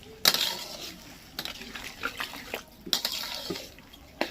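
Water poured into a pot of mixed vegetable curry with papaya and lentil dumplings, with clinks and knocks of utensils against the pot under a soft wash of pouring.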